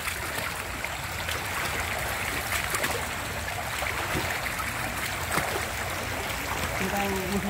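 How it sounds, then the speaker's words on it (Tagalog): Floodwater covering a road three days after a typhoon, a continuous rushing, splashing wash of water as a vehicle travels through it, steady and fairly loud, with people talking over it. "Parang ilog na itong binabaybay natin."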